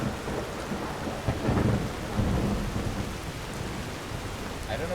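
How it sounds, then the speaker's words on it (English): Steady in-game rain hiss with low rumbling thunder swells in Skyrim, running continuously without pause; a brief chime-like tone rises near the end. "It's raining now."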